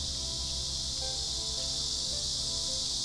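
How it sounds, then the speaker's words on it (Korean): Cicadas drone in a steady, dense high buzz outdoors in front of a studio, continuous and moderately loud with no talking. "매미 소리가 좋죠?"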